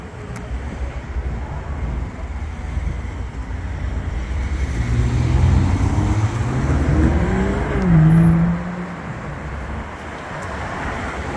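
A BMW M340i sedan engine rumbles past on a street, a low steady drone that swells and fades, with one brief louder rev near the end.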